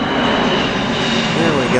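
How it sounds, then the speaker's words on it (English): A jet airplane flying overhead outdoors, a steady, loud engine roar that holds for the whole moment with a slowly shifting whine, no voices over it. "And of course we have a jet flying over."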